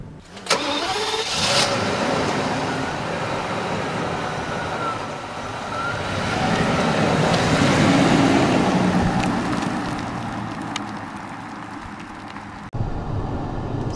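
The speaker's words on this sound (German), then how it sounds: "jetzt geben wir einfach mal ein bisschen Gas auf der Landstraße, von 70 aus heraus mit Vollgas, mit Kickdown" A Mercedes S 600 SEC C140 V12 engine starts with a burst, then revs and roars loudly as it accelerates at full throttle with kickdown from 70 on a country road, swelling and holding before dropping off abruptly.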